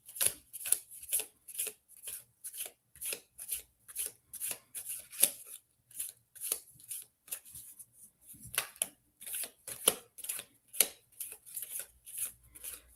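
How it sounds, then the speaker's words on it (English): Lenormand cards being shuffled, the stiff deck giving a steady run of crisp riffling bursts, each a short papery flutter, repeating close and fairly quiet for the whole stretch with no talking. "Oh, these are very difficult to shuffle."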